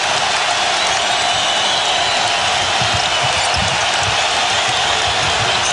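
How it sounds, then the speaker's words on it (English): Loud, sustained roar of an arena crowd at a 2008 Eastern Conference Finals basketball game between the Boston Celtics and Detroit Pistons, a dense wall of cheering and noise with faint thumps underneath. "This crowd does not need a noise meter."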